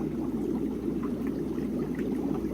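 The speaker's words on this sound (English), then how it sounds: "open until the clear, and so the clear water that's in the line comes out this way." Clear water drains from the bottom valves of a filter tank in a home plumbing and mineralization setup, a steady low rushing flow that holds even and continuous throughout, with no voices over it.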